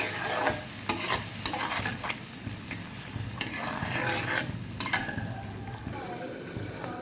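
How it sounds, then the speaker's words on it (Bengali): Green chillies, garlic, coriander, cumin and salt are stirred and fried in a pan. A continuous sizzle runs under repeated scraping strokes of a spoon, with a few sharper clinks against the metal. "এখন ভালোভাবে কষিয়ে নেব"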